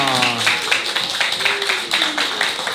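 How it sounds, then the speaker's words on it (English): Audience applause from a crowd at a Veterans Day gathering, a steady wash of clapping throughout with a voice speaking over it. "I want you to applaud yourselves."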